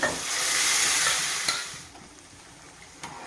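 Cooked dal tipped into a hot tempering for gurugaku pappu, a loud burst of hissing sizzle up close that swells for about a second and a half, then settles into a low crackle with a couple of stirring knocks.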